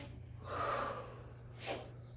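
Group of people at a gratitude talk breathing together in a guided exercise: a soft, drawn-out inhale followed by a shorter, sharper exhale, faint and slightly distant in a quiet room.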